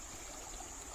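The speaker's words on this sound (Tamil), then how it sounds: "தண்ணி போகிற பள்ளம்" Water flowing steadily through a ditch beside a house, a constant close rushing hiss with no pauses.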